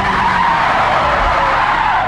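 Tires screech loudly and continuously as a car brakes hard in BeamNG Drive, one sustained close skid with no pause and no talk.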